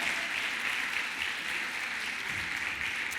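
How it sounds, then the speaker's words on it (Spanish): Church congregation applause for Jesus during a sermon, a soft, even wash of many hands clapping at a distance, steady throughout. "Dele un aplauso a Jesús porque usted es más que vencedor"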